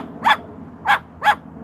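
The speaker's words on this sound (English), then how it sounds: "Oh, now we got some barks." A dog gives three sharp, close barks, one early and then two in quick succession, with quiet room background between them.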